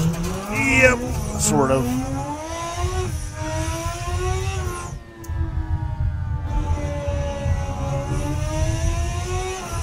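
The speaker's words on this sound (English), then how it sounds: "See if we can drift the hairpin." Car engine revving and tires sliding as a vehicle drifts around a hairpin turn in a racing video game, the engine note rising and falling steadily under brief talk.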